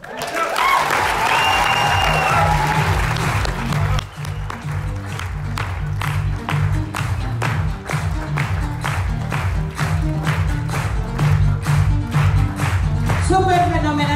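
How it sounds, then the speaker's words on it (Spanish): An audience at a motivational business talk claps in sustained applause, with a steady rhythmic beat of clapping over music and occasional voices throughout. "Fuerte ese aplauso para mi líder, Armand Puyol, que hizo que las cosas pasen"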